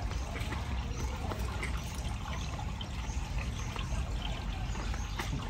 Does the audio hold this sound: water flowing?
yes